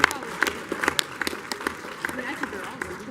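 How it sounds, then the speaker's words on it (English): A convention panel audience at WonderCon claps in a scattered, uneven patter of individual hands, with cheers and voices mixed in; moderate level and fairly sparse rather than a full ovation. "By a round of applause, clap if you think Tony Stark is going to die"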